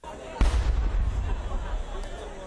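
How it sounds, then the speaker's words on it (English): A single sharp gunshot salute blast booms out at a former Nigerian president's funeral, followed by a rolling echo and low crowd murmur in the open air. "Gunshots were fired in honor of the former president."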